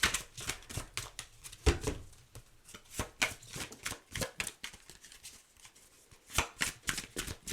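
Oracle cards shuffled by hand for a tarot-style reading, a close, quiet run of rapid papery riffles and flicks in uneven bursts, with no talking.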